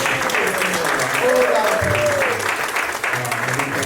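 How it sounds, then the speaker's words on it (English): Audience applause at a community gathering of Black men discussing voting in the 2024 election, a steady wash of clapping from a group with voices and cheering mixed in. "Give yourselves a round of applause."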